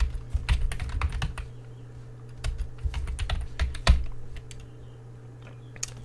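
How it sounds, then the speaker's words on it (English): Typing on a computer keyboard while entering PowerShell commands, close quick key clicks in uneven bursts with short pauses between them, over a faint steady hum. "We're going to type everything in again."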